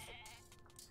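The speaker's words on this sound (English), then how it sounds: "Got some sheep or goats." Sheep or goats in the Age of Mythology video game give a short, faint bleat that wavers briefly, with no talking over it.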